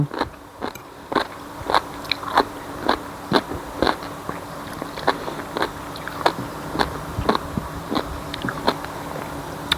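Crisp, crunchy papaya som tam salad chewed close to the mic, with sharp bites and crackly crunches repeating in an uneven rhythm for about ten seconds, no voices present.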